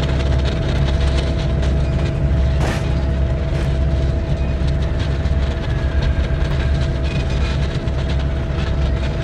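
A DR1a diesel train in BeamNG rumbles steadily from the lead carriage, with a constant low engine drone, rhythmic rail clatter and one brief sharp bang.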